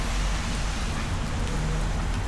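Steady, dense rain hisses and patters nearby, a continuous wash of falling water with no pauses.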